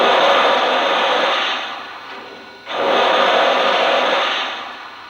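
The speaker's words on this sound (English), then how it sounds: "Here's the cylinder steam sound." Two long bursts of hissing cylinder steam from a Lionel 2-8-0 Consolidation model steam locomotive, each swelling and then fading, with a short quieter gap between them.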